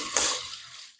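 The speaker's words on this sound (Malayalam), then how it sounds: "ഇത് 2 ഗ്ലാസ് ഈ വെള്ളമാണ് ഞാൻ ചേർത്തേക്കുന്നത്" A brief splash of water poured into a pot of rice for nasi lemak, a sharp wet gush that quickly fades to a soft trickle and stops.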